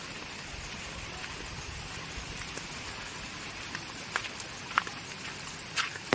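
Heavy monsoon rain in the Konkan pours continuously, a broad steady wash of noise with scattered louder drops spattering close by toward the end.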